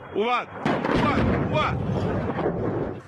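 Thunderous explosions from strikes in Tehran boom one after another with deep rolling rumbles, a sharp blast near the start followed by sustained heavy reverberating noise.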